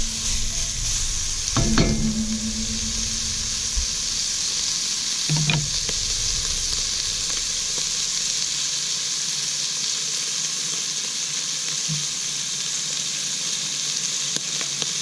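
Food sizzling loudly and steadily in a pan on a camp stove during a solo hike, with a couple of brief clinks and stirring sounds over the constant hiss.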